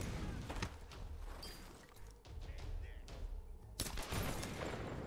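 Bursts of gunfire in the Tomb Raider video game, a rapid fusillade of shots with thuds in a combat scene, at moderate level with some background voice.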